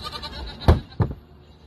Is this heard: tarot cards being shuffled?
no